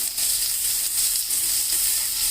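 Onion, garlic, ginger and chilli powder frying in hot oil give a steady, loud bright sizzle and hiss, continuous and close, with no talking.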